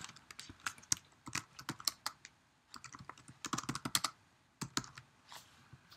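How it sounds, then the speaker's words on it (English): Typing on a computer keyboard, close and fairly quiet, with quick uneven bursts of key clicks separated by short pauses, and no talking. "so let me type that in"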